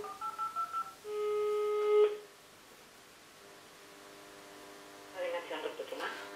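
A short series of telephone keypad tones beeps, then a long steady tone, quiet hum, and a voice speaking near the end.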